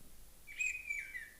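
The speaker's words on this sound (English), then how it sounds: "That's a bird, it's here." A bird sings a short, faint whistled phrase, a single rising and falling chirp lasting under a second over quiet background hiss.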